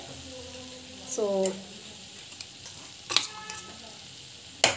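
Grated coconut stirred into frying okra in a pan, a soft steady sizzle broken by a few sharp scraping clinks of a spoon, with a brief spoken word in between.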